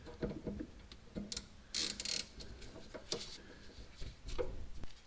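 A T40 Torx bit driving bolts on a Corvette during a coilover install, giving quiet mechanical clicking and ratcheting with a few sharper metallic clanks, close and without talk.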